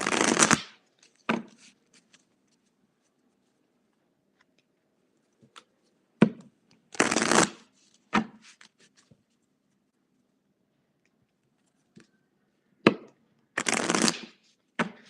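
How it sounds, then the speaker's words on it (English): Tarot cards shuffled in several separate bursts, each a quick riffling flutter lasting about a second, with quiet pauses between them. "You got to shuffle, otherwise the same cards keep on coming up."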